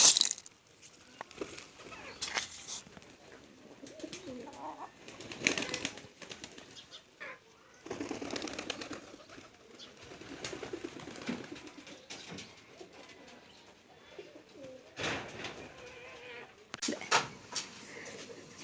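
Pigeons being fed coo and flutter nearby, soft cooing mixed with bursts of wing flapping and scuffling, irregular and close, with occasional faint background noises.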